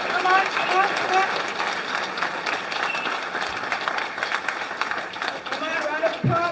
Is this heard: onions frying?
no